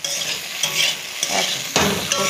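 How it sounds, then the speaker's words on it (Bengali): Vegetable bhaji sizzling in a home kitchen pan as it is stirred and flipped, a steady hiss broken by several scraping turns of the spatula. "তো ভাজিটা একটু উল্টিয়ে দিই"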